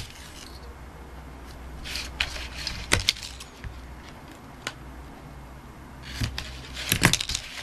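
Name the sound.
adhesive tape being applied to an album page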